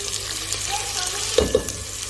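Onions frying in a pan of oil, a soft steady sizzle close by with a couple of brief clinks or stirs near the end, no voices.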